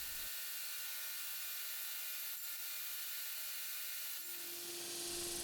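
Strips of wood being cut on a power saw for a chess board, a steady continuous whine with broadband rasp running alone throughout, shifting pitch near the end as the cut finishes.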